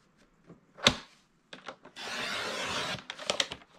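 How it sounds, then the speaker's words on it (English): A paper cutter trims the overhang from a calendar page: a sharp snap, a few scattered clicks and rustles, then a steady scraping slice of about a second, followed by more handling clicks. "So now I've brought in my cutter, and we're just going to trim this to get rid of the overhang."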